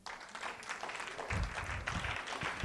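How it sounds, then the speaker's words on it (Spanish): Church congregation clapping, a fairly soft, uneven burst of applause with some low rumble underneath, brief and without clear speech. "Denle un aplauso al Rey."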